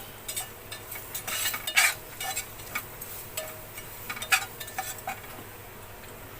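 A spoon stirs and scrapes through a jackfruit seed curry sautéing with homemade masala in a pan. The scrapes come quietly, at irregular intervals, over a faint sizzle.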